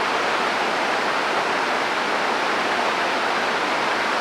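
A waterfall at The Hermitage, Dunkeld, produces a steady, dense roar of rushing water, loud and unbroken from start to finish with no voices.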